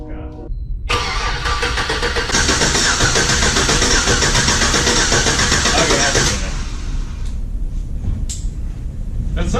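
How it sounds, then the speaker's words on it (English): A Jeep Comanche pickup with a swapped-in V8 cranks on its starter, a loud, steady whirring grind that runs for several seconds before easing off, with no clear catch and no talk over it. "Then you'll crank the starter."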